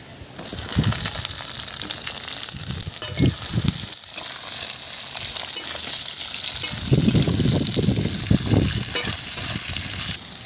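Potatoes hitting hot oil with browned onions and crushed garlic, a loud bubbling sizzle with bursts of crackle and spatter, close and continuous, no talking.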